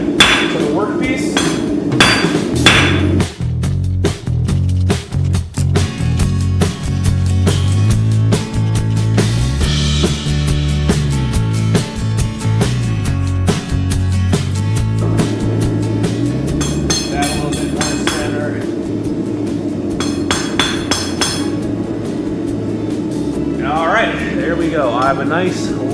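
Rapid ringing hammer blows on hot steel at an anvil beside a forge, as a taper is drawn out near the anvil's edge; the strikes ring loud and close, with someone talking throughout.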